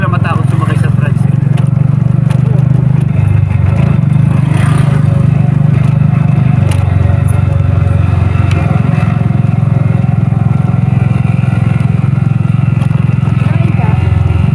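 Motor tricycle ride through Tagaytay City, with a steady low engine drone and road rumble running the whole way, loud and close, while people talk over it.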